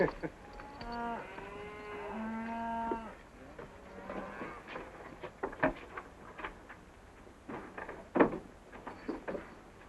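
Cattle moo in a series of drawn-out, resonant calls near the start, followed by quieter knocks and thuds like a door or gate.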